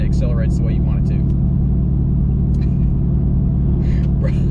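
Truck engine revving under load with a throttle controller fitted, a steady heavy rumble running throughout while people talk over it.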